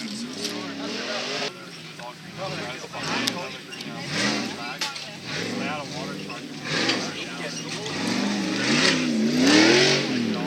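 A tuff truck engine revs and roars at a Minto off-road competition, loud and continuous with rising and falling pitch, while spectators talk excitedly over it.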